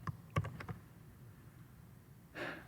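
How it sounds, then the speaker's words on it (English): A few quick keystrokes on a computer keyboard while entering an Excel formula, soft and close in a quiet room, followed by a faint breath. "We type equal average"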